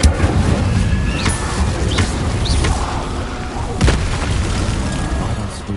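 Incendio fire spell blast in Hogwarts Legacy: a loud booming burst with fiery whooshes and crackles, followed by a couple of further thumps over a rumbling game background.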